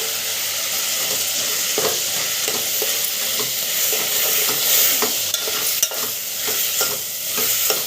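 Cauliflower sizzles in a pan with salt and ginger, giving a steady, close frying hiss broken by soft scrapes and clinks as the pieces are stirred, with no voices.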